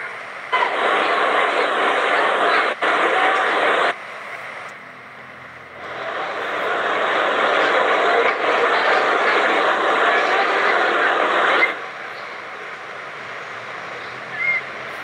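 A machine's motor re-engages through a clutch at an industrial setting, giving a loud, steady mechanical roar that drops briefly, then rises again and holds before settling to a lower hum.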